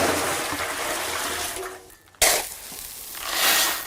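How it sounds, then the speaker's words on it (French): Water gushes and splashes steadily into the drum of a concrete mixer, loud and close; there is a brief lull, then a sharp burst as the pouring surges again. "On commence toujours par mettre de l'eau."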